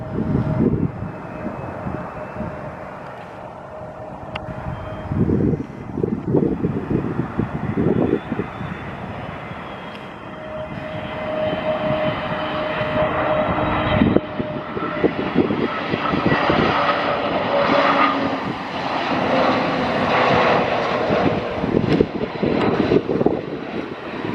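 Scandinavian Airbus A320 jet at Stockholm Arlanda, a long loud roar of jet engines building and swelling with whistling tones and gusts of wind on the microphone, no talk.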